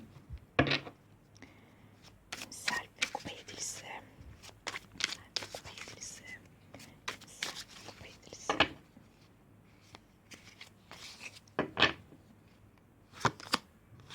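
Tarot cards being shuffled and drawn, giving a series of soft papery riffles, slides and taps at irregular intervals, close and fairly quiet, with a voice speaking faintly at times.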